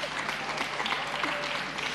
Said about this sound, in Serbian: Aplauz, molim vas